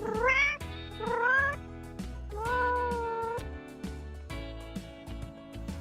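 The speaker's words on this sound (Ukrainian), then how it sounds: "Так, це кошенятко грайливе." A cat meows several times in drawn-out, rising and falling cries, loud and close, with short pauses between calls.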